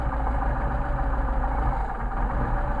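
A car engine with Solex carburetors runs at idle with a steady low rumble, its rhythm faltering and uneven as it stumbles during carburetor adjustment, close and fairly loud with no talking.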